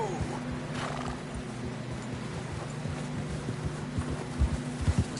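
Horse in the video game Red Dead Redemption 2 moving near a river, with clip-clop hoofbeats and a neigh over a steady low hum, a few louder hoof strikes near the end.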